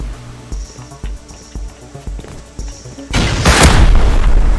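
A series of deep booming cannon blasts in the game Rust, then a sustained heavy roar of explosive fire near the end, loud and close in a game battle.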